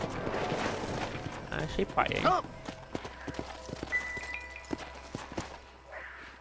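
Horse hooves clopping in the western video game Red Dead Redemption, a run of sharp, evenly spaced hoofbeats over dirt in the second half, following game dialogue and a commentator talking over it.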